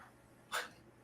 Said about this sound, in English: Did someone sneeze?